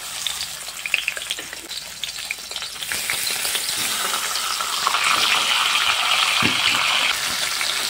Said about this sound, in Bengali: এবার মাছের মাথাগুলো এক এক পিস করে দিয়ে দেব তেলের মধ্যে।